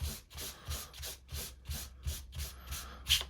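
Rhythmic rubbing of black ink off embossed patterned paper, about a dozen even back-and-forth strokes, close and soft, with no talking.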